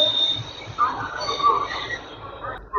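An ALCO diesel locomotive on shunting duty at Patna Junction rumbles at a distance, a low engine drone with a faint high whine above it, partly masked by someone talking close by over station noise.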